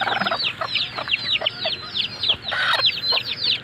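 Brooding hen clucking over her eggs, a close, continuous series of low throaty clucks and rising chirpy calls in quick succession.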